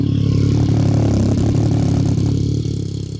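A new motorcycle engine in Jaffna starts and runs loud and close, a steady idling rumble with a few quick revs, easing off slightly near the end.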